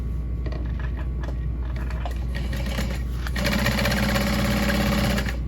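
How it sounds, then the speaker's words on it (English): A sewing machine stitches across the top edge of a bottle sleeve for a backpack, a close mechanical whirr that starts with uneven stutters and then runs into a louder, steady buzz over a constant low hum. "Just sewing across that top edge, pulling it through."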